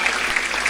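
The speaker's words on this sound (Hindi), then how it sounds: "एक बार जोरदार तालियां बजाइए।" Brief burst of enthusiastic audience clapping at a Hindi comic poetry gathering, dense and fairly loud throughout with no talking.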